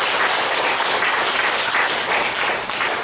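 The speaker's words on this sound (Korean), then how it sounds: "큰 박수로 보내주시기 바랍니다" An audience at a Korean assembly on peace and unification claps steadily and densely for three seconds, a loud, even wash of applause with no voices.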